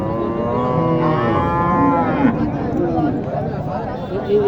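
A cow moos in long, loud, drawn-out calls at a busy rural cattle market, close by, while people talk and chatter around it.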